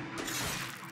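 Glass shatters in the survival horror game Resident Evil Revelations 2, a brief, loud crash of breaking glass filling the second with broad noise and a sharp burst at the end.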